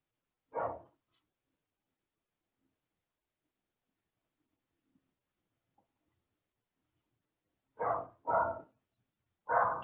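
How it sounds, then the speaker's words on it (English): Dogs barking outdoors, heard as one short bark early on, then a quick cluster of three barks near the end, all clear and moderately near with quiet gaps between and no talk. "And the dogs are going nuts outside."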